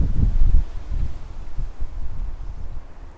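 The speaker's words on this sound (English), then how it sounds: "Oh, it's windy." Gusty wind buffets the microphone in low rumbling bursts, steady and fairly loud with no other sounds.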